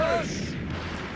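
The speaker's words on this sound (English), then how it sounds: "Oh, this spirit bomb wasn't really that good." A Spirit Bomb explodes in the Dragon Ball Sparking Zero video game, a loud, sustained rumbling blast that fills the whole moment and slowly eases off.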